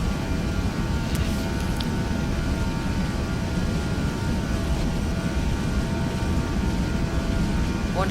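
Airliner engines spooling at takeoff power in a VATSIM flight simulator, a continuous loud low roar with steady broadband rumble and faint whine.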